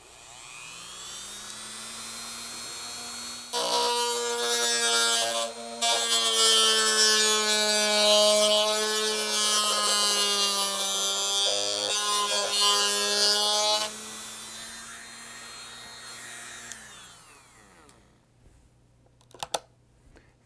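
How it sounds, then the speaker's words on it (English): Motor-driven Mototool rotary tool with a sanding drum grinding along the edge of a plastic model canopy, a steady high whine with a gritty rasp lasting about fifteen seconds, close and loud, then winding down to a few faint clicks. "you use a Mototool with a sanding drum, and you simply put the drum behind and sand right on the edge until the flange falls away"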